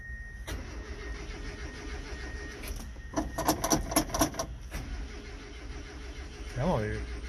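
An old Ford Courier engine cranks in uneven bursts, the starter grinding repeatedly in the middle stretch without catching, under a steady hum with a voice heard nearby.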